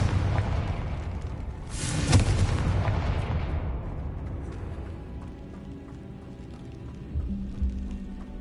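A Confringo blasting spell explodes in Hogwarts Legacy with a loud, sharp burst around two seconds in, trailing off into a low rumble, then a smaller thump near the end.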